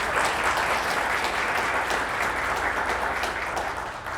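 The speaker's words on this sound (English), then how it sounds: "Let's give them a round of applause." Steady audience applause at a sponsored public event, a dense sustained clapping wash that fills the whole stretch evenly before easing slightly at the end, with no talk over it.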